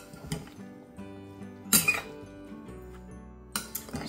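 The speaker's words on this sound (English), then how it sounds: "At that point, you want to give it a good mix." Stuffing and hard cheese are stirred in a bowl, a few sparse clinks and scrapes of a utensil against the dish over a quiet kitchen background.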